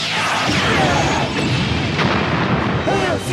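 Zeo cannon from Power Rangers Zeo firing a loud sustained blast with booming, crackling energy bursts, dense and continuous throughout.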